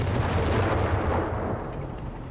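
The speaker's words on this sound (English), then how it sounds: "Explosions in the center." Explosions in the video game Company of Heroes 3 boom as a dense, loud burst of artillery-like blasts with deep rumble, fading slightly toward the end.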